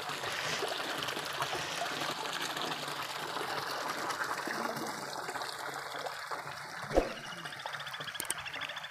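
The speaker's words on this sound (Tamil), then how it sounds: "தண்ணி நிறைஞ்சி கீழே போயிட்டுருக்கு" Rain-swollen lake water overflowing and running downhill in a rural hill village, a steady close trickling and gushing flow with faint birds and a brief knock partway through.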